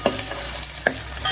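Curry leaves and green chillies frying in a pan for a fish curry, a steady soft sizzle with a couple of brief stirring scrapes, close and moderately loud, with no voices.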